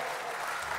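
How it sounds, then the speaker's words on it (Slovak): Audience applause at a Rusyn folk music festival in Svidník, a short burst of dense, steady clapping from a large crowd. "Šarišanci, ďakujeme. Veľký potlesk."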